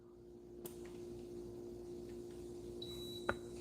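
A thermostat being set to 69 degrees gives a single short, high-pitched electronic beep, faint and close, followed by a small click in an otherwise quiet room.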